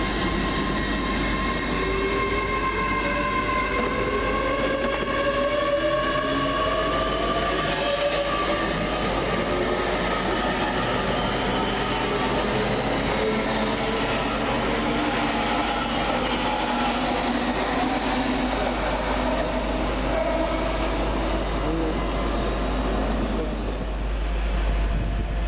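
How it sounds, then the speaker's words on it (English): A Great Western Railway Class 800 train, unit 800 319, pulls out of Reading station for London Paddington, its engine and traction hum rising in pitch as it steadily accelerates, loud and continuous, with rail clatter underneath. "Departing on platform 10 is 800 319, working the 1327 Great Western Railway service from Oxford to London Paddington."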